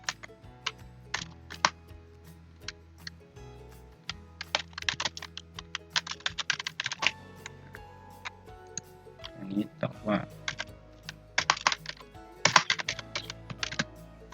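Rapid clattering keystrokes on a computer keyboard come in bursts and short pauses as answers are typed into an online worksheet, close and clear, with someone speaking at times in between.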